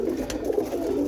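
Roller pigeons in a loft give low, throaty coos that swell and fade in soft overlapping phrases, close by and clear, with no one speaking.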